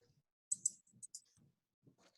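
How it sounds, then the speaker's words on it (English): Faint, sharp clicks from a pen being clicked during an online meeting come in a quick cluster of about half a dozen crisp snaps, then one or two more after a pause, against near silence. "I hear somebody clicking a pin, but it's not me."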